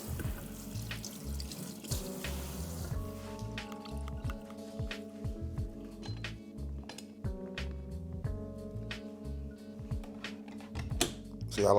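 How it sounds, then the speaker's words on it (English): Kitchen sink tap runs steadily while vegetables are rinsed beneath it, a continuous splashing gush broken by clinks and knocks of produce and dishes, close and fairly loud, no voices. "Always give your veggies a nice little rinse in the sink."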